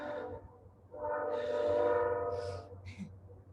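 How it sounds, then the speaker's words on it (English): A train horn sounds as a train comes through town, its loud sustained blasts rising over a low rumble with shorter high toots near the end. "12:45 train coming through town."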